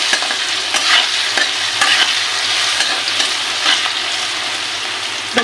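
Potato pieces with a pinch of salt and a little turmeric sizzle steadily in a hot pan, a spoon scraping and stirring through them every second or so; no one speaks.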